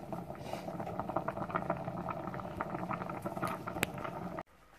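Red lentils and quinoa boil together in a cooking pot, giving a soft, steady bubbling and popping at low level that continues evenly before cutting off near the end.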